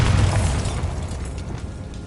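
A Bombarda blasting spell from a Harry Potter video game detonates in a single deep boom at the outset. The rumbling roar then fades steadily over about two seconds, with no talking.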